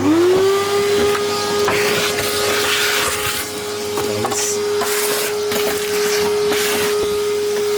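A vacuum cleaner motor whines steadily at close range inside an E36 BMW car, with scraping and bumping as the nozzle moves over a surface.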